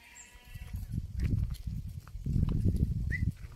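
Bandur sheep bleating amid a busy sheep market in Bairapattana, with dense, steady livestock noise rising through the short stretch and a thicker burst in the second half.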